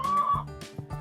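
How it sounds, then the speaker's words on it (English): Chickens cluck in short, close, fairly loud calls: one drawn-out note, then a quick run of clucks, with no one talking. "We have kids taking care of chickens."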